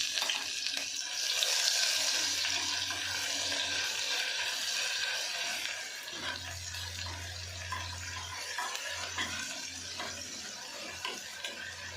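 Onions and garlic paste sauté in a pan for a bitter gourd (kantola) chips dish, a steady broadband sizzle with occasional stirring scrapes, no voices.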